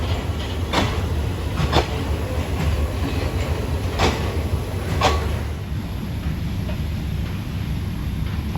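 Train rolling through Bangkok railway station, loud and steady rumble with several sharp rail clacks at irregular intervals, no voices.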